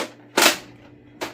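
A Nerf Mega Centurion blaster's magazine is pushed into place, giving a sharp plastic snap with a rattling tail, then a second, softer click about a second later, close and loud with no talk.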